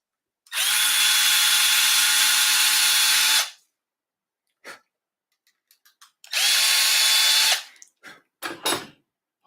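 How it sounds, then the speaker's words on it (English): A small 12-volt cordless drill, Milwaukee or DeWalt, used at a reloading bench, spins in two bursts of steady whirring of about three seconds each. Between and after the bursts come short clicks and knocks, with no talk. "these little Milwaukee or little DeWalt guns are perfect. They don't spin too fast."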